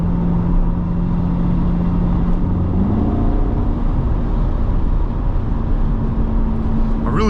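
Inside a 2020 Chevrolet Corvette C8 3LT Z51 cruising at about 81 mph on the highway, a loud, steady roar of road and wind noise fills the cabin, with a faint engine drone underneath and no talk.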